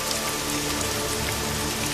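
Steady rain pours down over a flooding village in an animated children's story, a dense, even hiss of drops on surfaces with no pauses and no voices.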